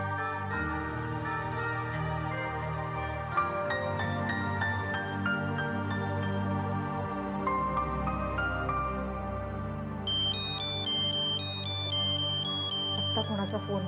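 A phone ringtone plays a looping electronic melody over a continuous background music bed, with a bright repeating high-pitched tone pattern that takes over toward the end.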